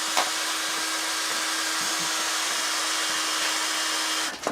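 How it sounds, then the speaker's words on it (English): A power drill bores out a screw on a racing sidecar, its steady high whine running continuously for several seconds before stopping at the end. "I was thinking of actually drilling it first"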